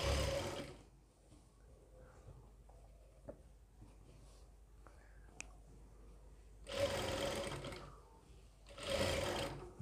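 A sewing machine stitches a medical nurse coat in two bursts, one at the start and a pair of close, loud runs near the end. Quiet handling noises fill the gap between them.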